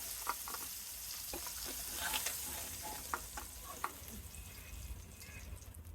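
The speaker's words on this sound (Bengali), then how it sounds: "এভাবে বাকি মাছগুলো আমি ভেজে নেব" Steady hissing sizzle of tengra fish frying in a pan, moderately faint, with a few sharp spatter pops and light clicks scattered through it; no talking.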